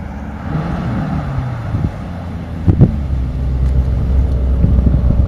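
A green Lamborghini Urus S engine rumbles by, low and steady, with a brief louder surge midway, amid wind and road noise and no talking.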